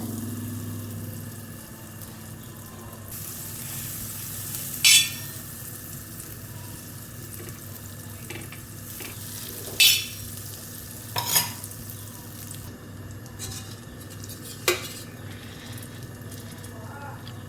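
Pav bhaji cooking in a big spoonful of butter on a hot pan, stirred steadily over a constant close sizzle, with a few sharp spoon clinks and scrapes against the pan.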